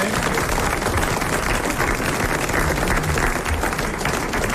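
A TV studio audience claps on a 1980 French television show, a broad, even wash of applause holding at steady loudness for several seconds.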